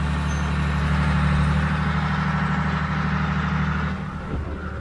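A farm tractor engine labours under load in a higher gear, a loud steady low drone with harmonic hum that eases slightly near the end, alone with no talk.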